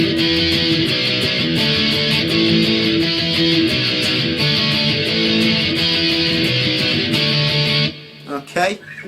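Electric guitar strums the chords of chorus C with a dense, bright, distorted tone in a steady rhythm, then stops abruptly near the end, followed by a brief scrape.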